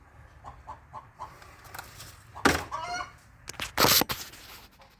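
A neighbor's hen clucks and squawks in a few loud bursts in a backyard at a scrap-metal sorting spot, with softer rhythmic clucks before, fairly close.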